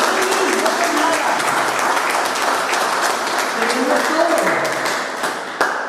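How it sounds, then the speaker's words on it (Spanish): A church congregation applauds in a sustained burst of clapping, with voices and a preacher's speech heard over it, the clapping thinning out toward the end. "Aplauda, si lo recibe en su espíritu, aplauda."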